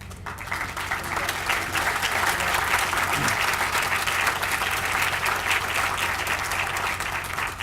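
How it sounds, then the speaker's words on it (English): An audience at a Black History Museum groundbreaking ceremony gives a steady round of applause for elected officials, dense sustained clapping from a crowd that continues throughout. "if you could just raise your hands and receive your round of applause"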